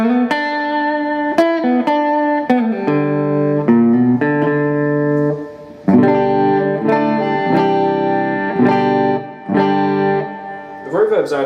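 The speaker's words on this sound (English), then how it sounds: "I'm surprised how noisy the reverb is on this amp." Electric guitar played through a Laney Ironheart 60 2x12 amp on the clean channel with reverb at 6.5, loud picked notes and chords ringing with a reverb tail and a faint noise floor.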